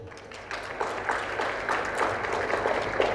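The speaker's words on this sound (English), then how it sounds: "Ladies and gentlemen, can we have a round of applause for the Delhi dignitaries here?" An audience at an HR conclave applauds Delhi dignitaries, with moderate clapping that rises slightly after a quieter start and holds steady.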